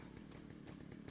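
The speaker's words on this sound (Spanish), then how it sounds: "Tres tías con motosierra, así de primeras." Chainsaws buzz in a Resident Evil 4 HD randomizer game, a faint rasping engine drone with rhythmic pulses as the blades rev, steady and low in level.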